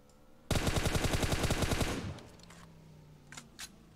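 Gunfire in PUBG on the Sanhok map: a rapid automatic burst of about a dozen evenly spaced shots lasting roughly a second and a half, loud and close, followed by a few fainter distant shots.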